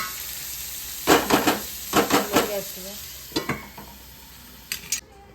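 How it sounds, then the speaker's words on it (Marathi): Green chili and ginger with cumin fry in hot oil in a pan for an okra masala, giving a steady sizzle broken by several close scraping stirs in short bursts, with no talk. "आणि मिरची आणि आलं. थोडं फ्राय करून घेऊ आपण."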